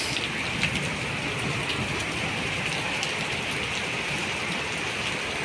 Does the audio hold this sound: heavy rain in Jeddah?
yes